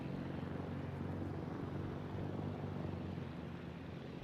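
Squadrons of small carrier planes drone in on an enemy cruiser in World of Warships, their propeller engines making a steady, continuous hum that holds level throughout.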